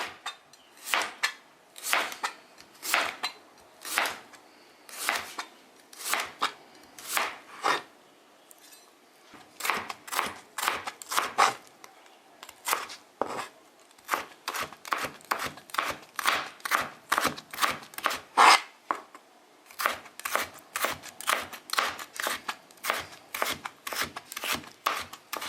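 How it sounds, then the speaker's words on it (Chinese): A knife chops boiled chicken breast into shreds on a cutting board, rapid crisp close strokes in bursts with short pauses, steady and fairly loud with no one speaking. "再要反过来给它切成丝儿。"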